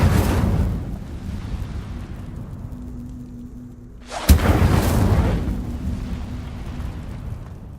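A fire spell, Incendio, cast in Hogwarts Legacy on Xbox Series S: a rumbling magical rush, then a sudden sharp burst about halfway through that swells into a loud fiery roar and slowly fades.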